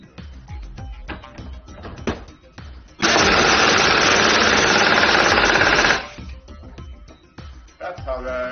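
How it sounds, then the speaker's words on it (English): Pneumatic pulse tool driven by compressed air through an airline hose, running in one loud, steady, rapid hammering burst of about three seconds between quieter stretches of workshop noise. "That's how the pulse tool works."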